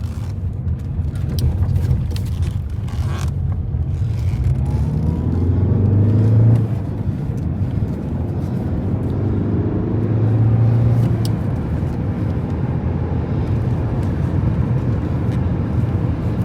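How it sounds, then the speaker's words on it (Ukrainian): A 2017 Volkswagen Tiguan engine drones steadily from inside the cabin, with low rumbling road noise and two brief rises in pitch as it accelerates. "покажемо, як їде, досить досить добре набирає обороти"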